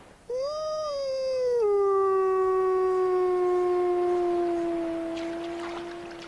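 A single wolf in Yellowstone gives a long, clear, sustained howl. It rises at the start, then holds and slowly falls over several seconds, close and alone in a quiet wild setting.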